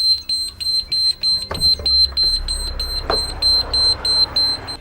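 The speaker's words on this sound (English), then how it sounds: "Now as soon as you do this, an alarm will sound." An emergency door alarm on a First Great Western train sounds after the red release handle is pulled, a loud, steady high-pitched beeping pulsing in a regular rhythm with some mechanical clunks underneath.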